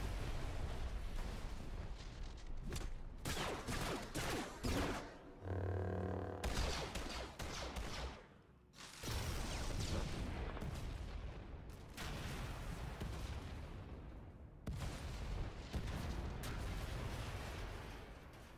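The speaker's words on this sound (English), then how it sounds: "There we go, they're starting to shoot." A battle in Star Wars: The Old Republic erupts with dense bursts of blaster gunfire and booming explosions, loud and close, arriving in heavy clusters separated by short lulls.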